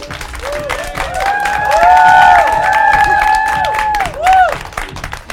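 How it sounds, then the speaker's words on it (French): A crowd applauds and cheers for a hip-hop dance troupe, a busy mass of claps under a long rising whistle-like tone that swells midway and bursts again near the end. "Veuillez les applaudir encore une fois."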